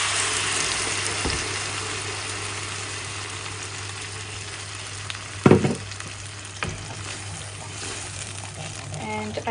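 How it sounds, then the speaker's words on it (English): Jalfrezi spice mixture hitting a tablespoon of hot olive oil, a steady soft sizzle of frying with a sharp clatter midway and a few light knocks from utensils. "So now I have 1 tablespoon of olive oil. Now I will add all the mixture here."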